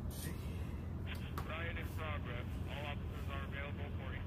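Helicopter in The Walking Dead video game, a steady low rotor rumble and broadband whir running throughout, with a person speaking over it.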